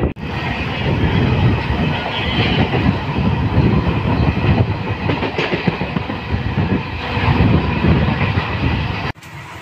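A Tambaram–Villupuram MEMU express passenger train rumbles steadily along the rails, loud and close, with a continuous clattering roar that cuts off abruptly near the end.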